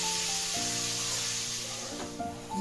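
Potatoes fry in a pan during preparation of a Bengali koi fish curry with cauliflower, a steady close sizzle and hiss running throughout with faint tones in the background.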